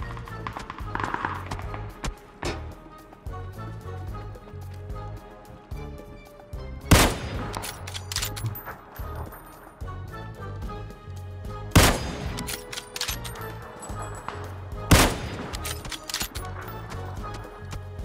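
Kar98 rifle shots in the PUBG video game, heard as three loud single cracks spaced several seconds apart over continuous game ambience and footsteps.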